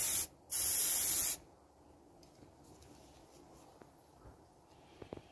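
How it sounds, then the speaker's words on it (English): Aerosol spray paint hisses onto a Star Wars Legion AT-ST miniature in two loud bursts, a short one then a longer one, followed by quiet handling sounds. "Continue spraying."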